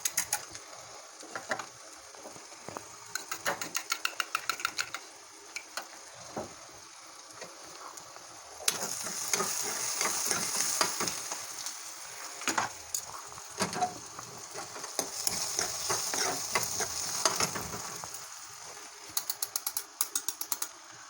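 Onion frying in a pan for egg bhurji, heard as a steady sizzle broken by frequent clicking and scraping of a utensil, quieter at first and then louder and fuller from the middle onward, with no talking.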